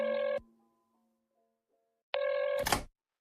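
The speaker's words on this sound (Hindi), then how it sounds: "इसे फोन करता हूँ एक सेकंड" Phone ringback tone from an outgoing call, two steady electronic ring bursts separated by about two seconds of silence, close and clear.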